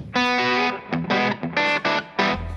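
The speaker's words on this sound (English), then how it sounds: "I got a little bit of that reverb happening, if you're wondering, because the Royalist doesn't have reverb" An electric guitar through a Tone King Imperial preamp plays a shuffle with reverb: short, punchy chord stabs in a steady rhythm, loud and close, with each hit ringing briefly into the gaps.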